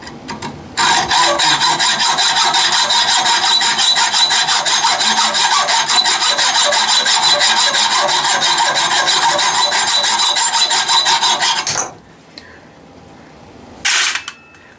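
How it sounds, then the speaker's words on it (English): A hand saw cuts through a metal piece for a horizontal steam engine, giving a loud, rapid rasping stroke rhythm that runs steadily for about eleven seconds before stopping, followed by a brief scrape. "So here I am sawing it off."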